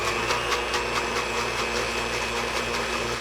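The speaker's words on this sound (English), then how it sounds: "Cover the blender and push chop for about 1 minute before adding the other ingredients." A KitchenAid Ultra Power blender on its chop setting runs steadily, chopping raspberry sugar-free gelatin with a loud, continuous motor whine and a rapid, even pulsing churn throughout.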